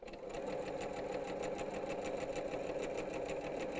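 Sewing machine stitches a quilt panel in a fast, steady, even rhythm, close and fairly quiet, with no talking.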